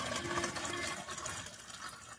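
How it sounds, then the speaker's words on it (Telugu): Water pours steadily into a container for watering rose plants, a continuous close splashing gush with no talk. "వాటర్ అయితే పోస్తున్నానండి ఇందులో"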